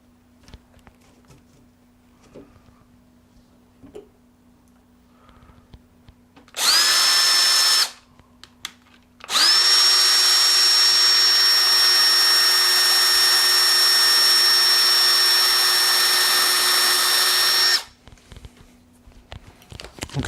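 A power drill drives wood screws into an LED marquee assembly, whirring loudly in a short burst and then one long sustained run, with quiet handling noises before and after.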